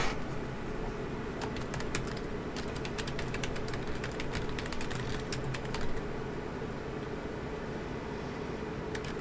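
Rapid clicking keystrokes on a computer keyboard, close and steady, coming in dense bursts over a constant low background hum with no voices.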